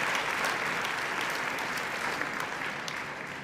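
An audience applauds women being honored at an awards evening for women of influence, with steady, dense clapping that holds even for several seconds before easing slightly at the end.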